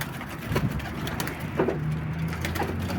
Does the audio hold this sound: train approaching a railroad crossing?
no